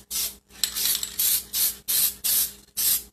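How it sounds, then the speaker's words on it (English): Aerosol sealer sprays from a can onto a painted ceramic Halloween bisque figure in short, loud hissing bursts, about seven or eight of them separated by brief pauses, close by with no talking. "And you just want to spray back and forth and get a nice light,"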